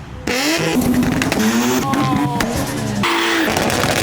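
A Nissan S14 engine revving while leaving a car meet, loud rising and falling pitch sweeps in repeated pulls close by, with a brief exclamation near the start.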